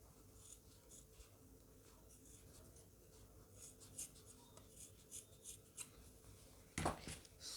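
Scissors cutting fabric for a cut-and-sew beret, soft repeated snips and rubbing close by, with one sharper snip near the end and no speech.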